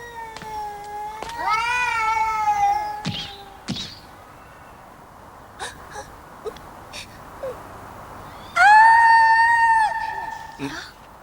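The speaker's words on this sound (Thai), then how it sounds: "แมวหนูอะอยู่ทางนั้นน่ะ" Cartoon cat in an animated series meows in long, wavering, high-pitched cries, several drawn-out calls early on and a loud one near the end, with sharp thumps and brief noises between.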